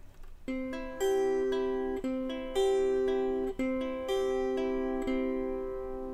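Plucked lyre notes in C ring out in a repeating pattern, two quicker notes followed by two slower ones, clear and close with no talking.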